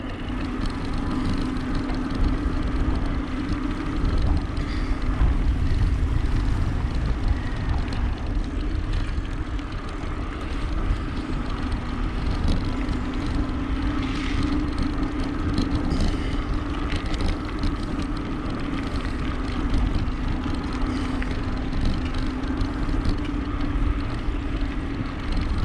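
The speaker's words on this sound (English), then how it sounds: "I wondered why there were so many airplanes flying" Steady propeller airplane drone passes overhead outdoors along a Fort Myers bike trail, a continuous low engine hum under wind rumble with no talking.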